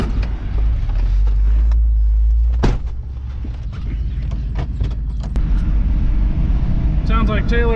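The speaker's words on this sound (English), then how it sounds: "Sounds like Taylor's remembering how to drive a manual, or at least an old crappy hooptie manual" A 1972 Chevrolet C20 pickup with a 350 engine and four-speed manual gearbox rumbles nearby with a low engine drone and mechanical creaks and clunks as it pulls away, a brief sharp crack midway, with voices talking over it.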